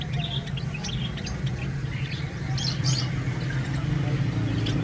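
Java sparrow breeder pairs chirp in short, faint tweets scattered over a steady low hum, with a few brighter calls standing out near the middle.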